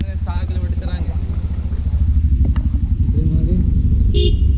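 Heavy road traffic on the way to Kedarnath, with motorcycle and car engines rumbling steadily and close. A voice talks over the start, and a brief sharp horn-like blip comes near the end.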